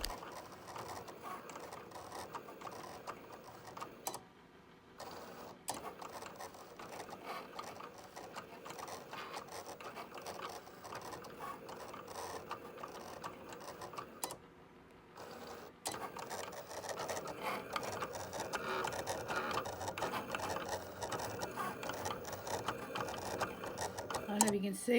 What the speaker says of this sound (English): the Cricut is cutting